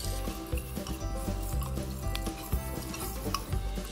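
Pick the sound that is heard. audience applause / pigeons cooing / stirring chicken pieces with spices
stirring chicken pieces with spices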